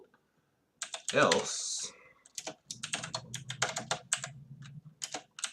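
Code is typed on a computer keyboard in quick, close, rhythmic key clicks, with brief speech heard near the start.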